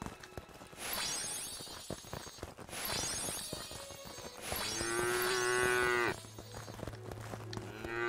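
Cows moo in a breeding pen in the video game Craftopia, several long, drawn-out lowing calls one after another, loud and close with no talk over them.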